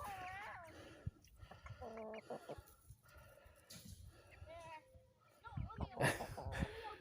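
A rooster clucks several times at a distance amid chickens, with children and adults talking over it and outdoor background noise throughout.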